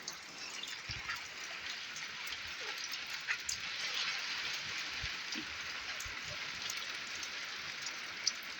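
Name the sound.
rain falling in a village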